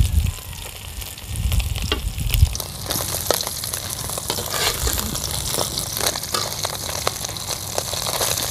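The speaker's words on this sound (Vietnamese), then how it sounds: "Chiên cho nó giòn giòn luôn ha." Fish crackles and sizzles as it fries crispy in hot oil in a rural kitchen, a steady close hiss dense with sharp pops and spatters, alone with no voices.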